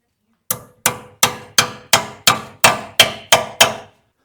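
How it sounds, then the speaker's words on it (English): A hammer knocks a 13 mm socket onto a rusted bolt on an old Dodge, giving nine sharp metallic strikes at a steady, fairly quick rhythm, each ringing briefly and close up. "Let me see if I can whoop a 13 on there with a hammer."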